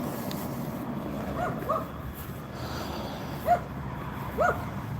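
A small dog on a sidewalk outside a house gives scattered soft whimpers and yips over steady outdoor background noise, the sounds faint and spaced apart.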